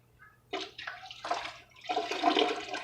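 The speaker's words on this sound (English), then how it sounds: "You can just pour it to the side to where it hits the side of the bucket." Honey and apple juice mixture poured into a bucket for cyser, striking the bucket's side with broken, splashy bursts of liquid that build and swell over a few seconds, heard alone at close range.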